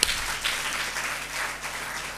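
Audience applause during a Telugu church sermon on a mother's influence, a steady wash of clapping that holds evenly for about two seconds with no voices over it.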